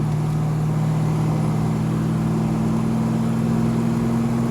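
A 1991 Ford Mustang LX 5.0 with a manual gearbox cruises in gear with a steady droning engine hum and road noise from inside the cabin, holding an even pitch without a distinct shift.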